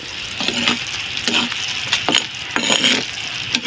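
A spoon works through sticky rice (malagkit) in a pot, giving repeated wet, squelching scrapes about every half second, close and fairly loud, with no talking.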